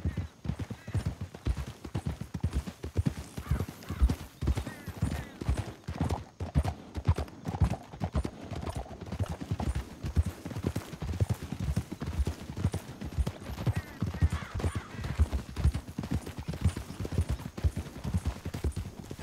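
Horse hooves clip-clop in a rapid, steady galloping rhythm in the video game Red Dead Redemption 2, with occasional distant shots and a voice briefly heard over the hoofbeats.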